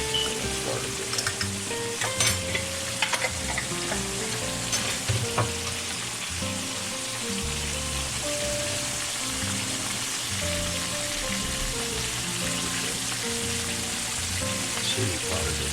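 Minced garlic, salt and seasoning fry in butter with a steady, close sizzle that runs the whole length without a break.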